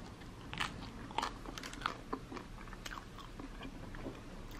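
Someone bites into and chews a frozen vegan pizza with gluten-free crust and soy-free vegetable cheese, giving several crisp crunches up close, then softer chewing, with no talk.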